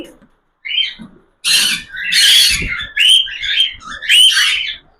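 Baby cockatiels, lutino and dark chicks just separated from their parents, give loud, raspy, repeated squawking calls in close bursts, with short gaps between them.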